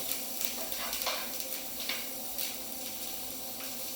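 Lamb kofta mixture stirred and mixed round in a bowl, a steady soft scraping and shuffling with light clicks, fairly close and continuous with no talk.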